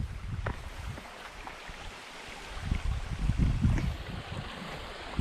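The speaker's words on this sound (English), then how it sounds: "Not giant, but little waterfalls coming down." Small waterfalls spill down at a water source along the Pinhoti Trail, a steady broadband rush of falling water with low rumbling swells, fairly close and continuous without talk.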